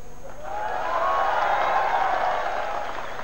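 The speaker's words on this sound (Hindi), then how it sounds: "तालियां थोड़ी कम बजी।" Crowd applause at a Congress political rally in Depalpur, a broad wash of clapping that swells after half a second and holds steady, fairly loud.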